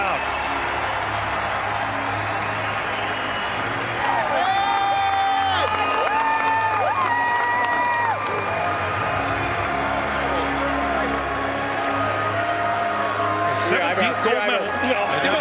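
A hockey arena crowd cheers and applauds Canadian players during a gold-medal celebration against Sweden, a steady roar of noise under a commentator's voice.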